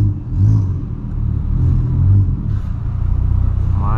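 A VW Polo with a straight-pipe exhaust drones loudly through a tunnel, its low rumble swelling in two short surges and echoing off the walls with no talk over it.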